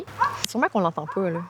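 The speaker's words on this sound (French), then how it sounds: "Petit chien de la plage à chiens." A small dog at a dog park yips and barks in several quick, high, whiny bursts, close by, with a voice speaking at the start.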